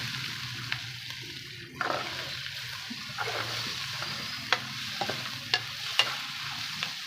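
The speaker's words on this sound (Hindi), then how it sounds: "ये देखिए काफ़ी हद तक ये फ्राई हो चुका है" Okra sizzles and fries in a pan as a steady soft hiss, with occasional sharper pops and stirring clicks rising above it.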